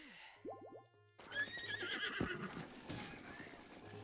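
A horse in Zelda: Breath of the Wild gives a clear neigh, a rapid descending whinny near the start, followed by clip-clopping hooves and busy game sounds with no one speaking.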